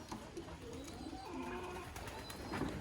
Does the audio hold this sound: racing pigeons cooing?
yes